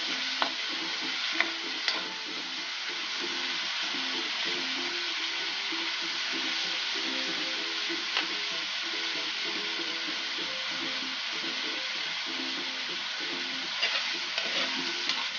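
Pansit bato ingredients brown in a pan, seasoned with pepper, giving a steady, even frying sizzle. A few faint clicks and taps sound throughout.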